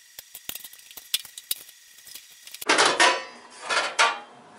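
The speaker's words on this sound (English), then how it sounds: "Got myself a flat screwdriver, just gonna very carefully pry these out here." Metal scraping and clanking as a flat screwdriver pries covers off a vintage GE heater, a run of sharp close clicks and taps followed by louder, longer grinding scrapes.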